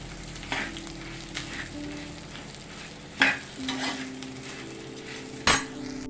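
Pre-fried potatoes, tossed with salt and chili powder, are stirred in a pan for a crispy restaurant-style potato fry: a steady low sizzle with repeated scrapes of a spatula against the metal and a few sharper clanks, no voices.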